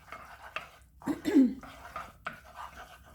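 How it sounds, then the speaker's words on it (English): A spoon stirring butter into soft scrambled egg in a pan, with scraping, light clinks and soft wet movement over about three seconds, close and quiet. "I'm going to add the other piece of butter at this point, and then I'm going to stir that in"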